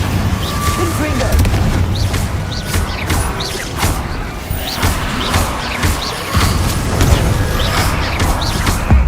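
Spell-casting combat in Hogwarts Legacy, with a string of sharp magical blasts and thuds from the Confringo explosive spell, plus whooshes over a busy game soundtrack and a voice shouting spell names.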